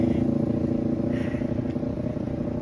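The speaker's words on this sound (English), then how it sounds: "motorcycles are coming by." Motor vehicle engines rumble steadily nearby, a continuous low drone of passing motorcycles with no pauses.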